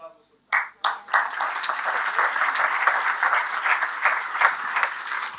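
Audience applause breaks out in a church sermon setting, a few sharp separate claps first and then steady, dense clapping that holds at an even level through to the end.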